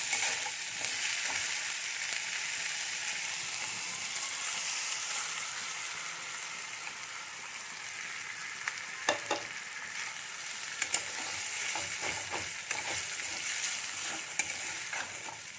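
Green pea paste frying in a kadai with ginger for kachuri gives a steady, close sizzle, a continuous hiss with scattered sharp pops and a few spoon scrapes.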